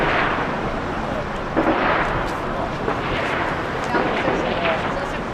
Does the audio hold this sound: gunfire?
yes